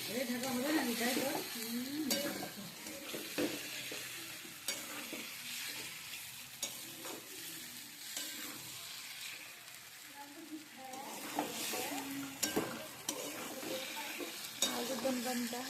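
Potatoes fry and sizzle in a pan for aloo dum while a spoon stirs them, with scraping and clinking against the pot and a quiet voice talking underneath.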